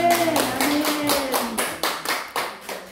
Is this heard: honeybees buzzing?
no